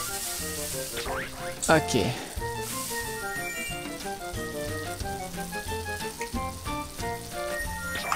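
Mushrooms and shrimp sizzle in a pan in the Cooking Mama Wii game, a soft steady frying hiss under cheerful game music, with a person speaking briefly over it.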